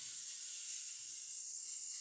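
A breathy vocal hiss imitates a steaming kettle, a steady airy rush held evenly and softly for the whole span with no talk.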